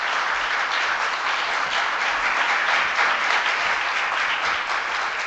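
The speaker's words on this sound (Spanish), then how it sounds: "Recibamos con un fuerte aplauso a Víctor Batista Velázquez." Dense, steady applause from a conference audience welcoming a speaker in San Bartolomé de Tirajana, a continuous wash of many hands clapping at even loudness throughout.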